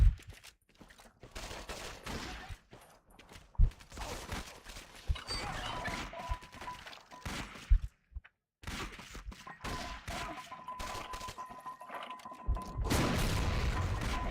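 Flak 88 anti-aircraft gun firing in the Medal of Honor Heroes 2 video game, with repeated booming shots and bursts of gunfire, uneven and clustered, plus a short silent gap midway.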